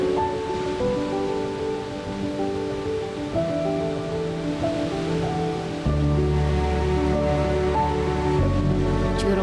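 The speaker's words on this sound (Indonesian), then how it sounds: "Cantiknya tingkatan air terjun membuat saya betah menatap aliran lembut" Tiered waterfall at Curug Sodong in Ciletuh Geopark, a steady rushing roar of falling water under sustained music tones, continuous and fairly loud.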